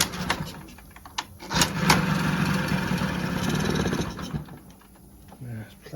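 Small engine of a 1982 Honda Melody scooter with a fuel system fault, revved with the throttle; an uneven mid-pitched buzz rises and falls near the mic, with a few sharp clicks and people talking over it.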